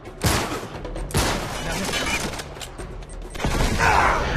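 Video game pistol gunfire in Uncharted 3 cracks out in a few sharp, loud shots amid a dense battle soundscape with other weapons and explosions.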